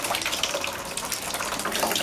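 Water gushes in a steady, continuous stream out of the middle hole of a container in a simple physics demonstration, a close, even rushing and splashing with no talk over it.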